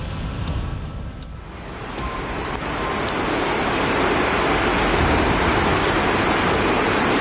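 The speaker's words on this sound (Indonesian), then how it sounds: "Aliran sungai yang deras mengalir" Rushing current of the Cilaki River in South Cianjur near a bamboo footbridge, a loud, steady broadband roar of fast water that builds slightly and fills the whole clip, with no voices.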